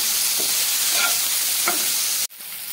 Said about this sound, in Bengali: এভাবে উল্টে পাল্টে নেড়ে নিয়ে আবারও ঢাকা দিচ্ছি